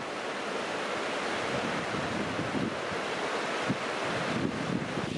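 A river flowing past a riverside in Uppsala, below the castle hill, makes a steady, loud broadband rush of water throughout, mixed with gusty wind buffeting the microphone.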